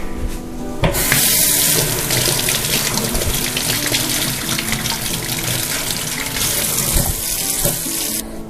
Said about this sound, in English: Just take off a good bunch, good handful, give it a good wash.